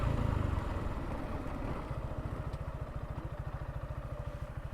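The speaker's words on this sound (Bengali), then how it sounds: "সো বাইকটা এখানে পার্ক করবো" A motorcycle engine idling in steady rapid pulses after an earlier burst of louder rumble, parked at a tea estate near the Meghalaya hills in Sylhet, with no talking.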